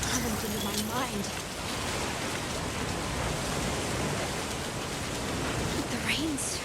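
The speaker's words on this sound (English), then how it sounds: "The rain's really coming down" Heavy rain pours down in the video game Monster Hunter Wilds, a constant dense hiss of a downpour filling the scene, with brief tonal calls near the start and end.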